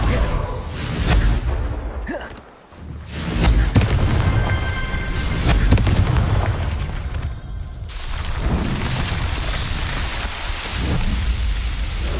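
A Confringo blasting spell explodes in Hogwarts Legacy, a loud burst followed by rumbling, crackling debris over a dense, continuous game soundscape with dips in between.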